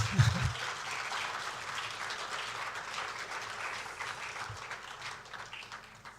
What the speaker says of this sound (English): Oh, please, a round of applause.